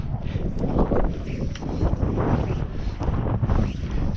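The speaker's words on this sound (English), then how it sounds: "I'm out here getting blown around in the wind" Strong wind buffets the microphone beside a trout lake, a continuous loud rumbling roar with gusty surges and no talking.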